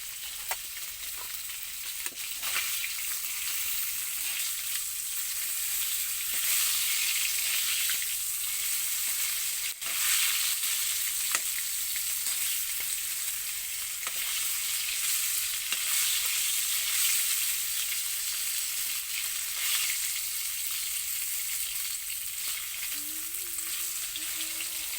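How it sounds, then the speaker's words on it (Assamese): Fish pieces fry in hot oil in a pan until crisp and reddish, giving a steady loud sizzle throughout with occasional crackles and stirring scrapes, and no voices. "মাছখিনি ৰঙা ৰঙাকৈ টাইটকৈ ভাজিলে মানে সোৱাদ হয়।"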